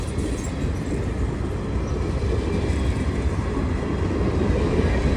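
Steady, broad low rumble of a freight train passing a railroad crossing, continuous and fairly loud throughout with no voices.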